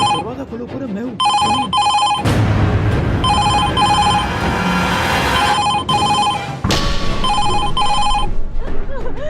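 A telephone bell rings loudly in repeated bursts of trilling rings, with voices and bangs in a dramatic scene over and between the rings.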